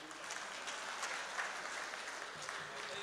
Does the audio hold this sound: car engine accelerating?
no